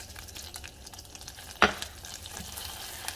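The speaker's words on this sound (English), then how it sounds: "Melt down, I think like 3 tablespoons of unsalted butter works for this" About 3 tablespoons of unsalted butter melts with smoked paprika in a pan for boxed mac and cheese, a steady close sizzle with a sharp utensil clink midway.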